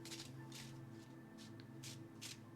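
Tarot cards being shuffled by hand, five or six short riffling bursts at a steady rhythm, close and fairly faint over a low steady background hum.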